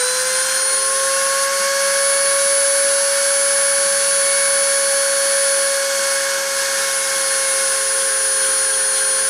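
A CNC spindle spinning at 30,000 RPM gives a loud, steady high-pitched whine with layered tonal overtones. It holds constant throughout with no voices.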